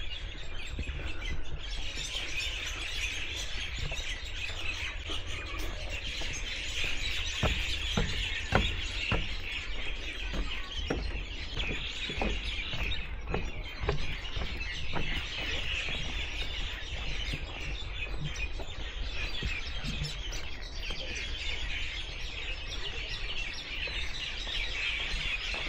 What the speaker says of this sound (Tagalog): Ingay ng mga ibon, daming ibon dyan sa puno na yan.